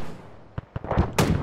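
A rocket launcher fires in the military shooter Arma 3, with two quick sharp reports followed by a louder, broad blast and rumbling tail, close and loud with no talking.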